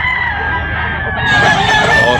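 A single loud rooster crow rings out close by, drawn out and strained over about two seconds.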